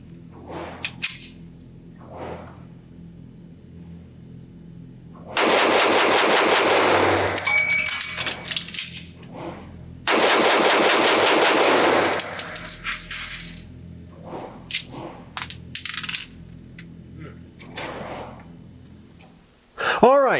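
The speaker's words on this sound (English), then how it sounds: "So I'm going to try to empty the magazine, drop it, reinsert a new magazine, get the gun back in action, and see how I do." A Smith & Wesson Gunsite 1911 .45 pistol fired at a range, two loud rapid strings of shots separated by a pause for a magazine change, with scattered single reports and handling clicks around them.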